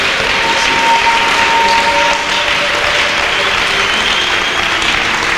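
A church congregation claps together in loud, sustained applause, a dense steady roar of many hands filling the room from start to finish.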